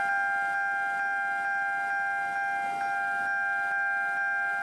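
A Malaysian railway level crossing warning siren sounds a steady, loud two-tone electronic wail that holds constant throughout.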